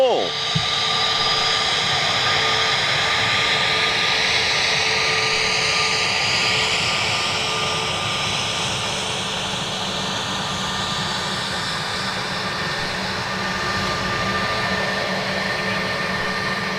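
Ilyushin airliner engines taxiing at Manchester Airport, a steady loud turbine whine and broadband roar holding throughout, with people talking nearby underneath.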